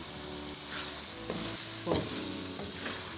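Egg sauce with spring onion sizzles softly in a pan over low heat, a steady close crackle with a few scraping strokes of a spoon stirring through it.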